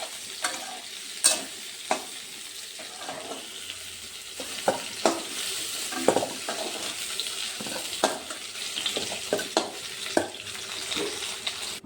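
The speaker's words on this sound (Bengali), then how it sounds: "ওই তেলের মধ্যে একটা শুকনো লঙ্কা দিয়ে দিচ্ছি আর দুটো তেজপাতা দিয়ে দিচ্ছি ফোড়নে" Dried red chilli and bay leaves are dropped into hot oil for tempering, giving a faint sizzle broken by sharp utensil clinks and stirring scrapes at irregular intervals.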